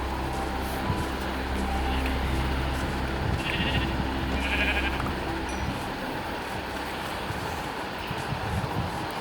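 Sheep bleating in the Minecraft video game, two short bleats over a steady background hum, with soft game noises around them.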